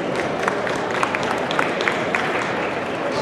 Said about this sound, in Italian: salutiamolo con un applauso